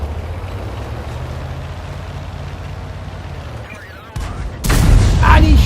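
In a tank video game, an M44 fires its gun with a sudden heavy boom that rings out over a low engine rumble, followed by a louder, sustained blast and roar near the end.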